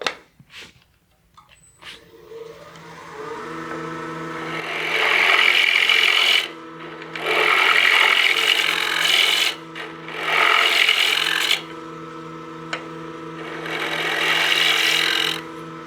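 Woodturning lathe cutting a utility box lid, the gouge rasping against spinning wood in several sustained loud bursts between brief pauses, over the steady tonal hum of the running lathe, close and without talk.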